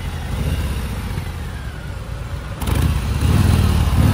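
Harley-Davidson Fat Boy 107 motorcycle with a 1900 cc V-twin, idling close by with a deep, throbbing low rumble that grows louder partway through.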